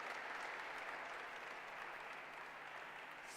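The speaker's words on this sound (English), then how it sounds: "I think you should clap for the contestants" A quiz-contest audience at a national science and maths quiz regional championship applauds the contestants with faint, even, continuous clapping that carries on steadily throughout.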